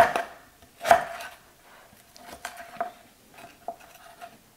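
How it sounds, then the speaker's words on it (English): Crinkle-cut potatoes being chopped in a bowl for beer-battered fish and chips: a sharp opening chop, then a loud hit, followed by a quicker run of lighter knocks and taps, close and with no talking. "We're going to bring our bowl over, get those in the bowl, and just chop them up"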